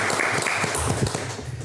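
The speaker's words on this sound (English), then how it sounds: "Can we please give a round warm of applause?" A studio audience claps and applauds continuously to welcome a guest onto a show, loud and dense throughout the short stretch.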